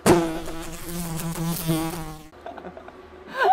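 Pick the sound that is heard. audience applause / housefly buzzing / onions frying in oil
housefly buzzing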